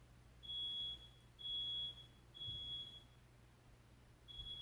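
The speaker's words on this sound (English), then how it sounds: "the smoke alarms in my dorm went off" A dorm smoke alarm beeps in long, shrill, evenly spaced tones, four in a row, against a quiet low hum.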